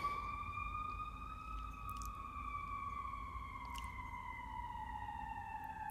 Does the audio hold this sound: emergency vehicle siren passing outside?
yes